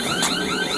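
An electronic alarm sounds alone, a loud steady tonal beeping through the short moment.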